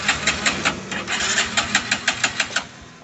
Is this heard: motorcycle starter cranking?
yes